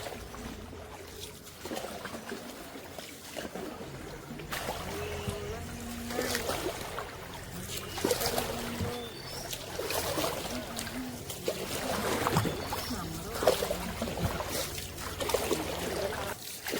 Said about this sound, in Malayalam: അപ്പൊ നമ്മുടെ കൊട്ടവഞ്ചിയുടെ യാത്ര നമ്മൾ സ്റ്റാർട്ട് ചെയ്തു കേട്ടോ